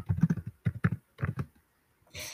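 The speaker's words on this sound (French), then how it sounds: "j'entends quelqu'un claquer sur son clavier" Someone types on a computer keyboard during an online webinar, with clusters of quick close clicks, short pauses between bursts and a brief hissing burst at the end; no talking.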